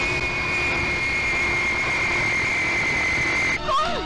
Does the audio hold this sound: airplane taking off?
yes